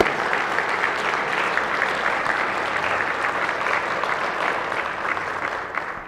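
Full, sustained applause fills a Senate chamber as a new Hawaiian Homes commissioner is introduced. The dense, even clapping from many people continues without a break and fades slightly at the close.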